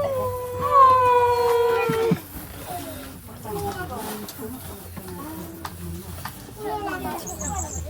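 A dog lets out a long, loud, sustained howl that breaks off abruptly, then gives softer intermittent whines and yelps while people talk nearby.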